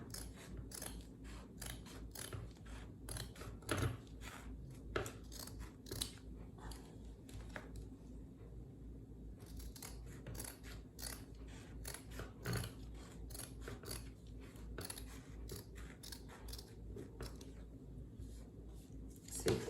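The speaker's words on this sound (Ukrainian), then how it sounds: "Починаємо з того, що нарізаємо фетр на десь двохсантиметрові смужки." Scissors cut felt into narrow strips, with repeated close, crisp snips and slicing sounds in an irregular rhythm over a quiet background.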